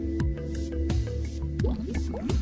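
Water and air gush from opened aeration pipe cleaning valves during a flat sheet membrane bioreactor installation, making repeated close gurgling, bubbling bursts and squishy drips in an irregular rhythm, with no talk.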